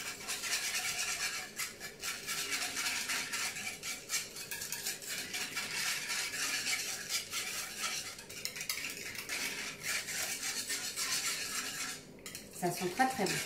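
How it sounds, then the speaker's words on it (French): A coconut milk mixture is stirred in a pot, giving a steady, continuous scraping and clinking of a utensil against the sides that runs close and fairly loud throughout, with no talking. "et je mélange."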